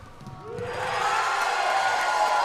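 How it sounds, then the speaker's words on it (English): A crowd at a men's semifinal of the World Tchoukball Championships bursts into a swelling roar of cheering after a quiet start. The sound builds within the first second and then holds loud and sustained to the end. "You can hear the crowd so glad that Matthew caught it"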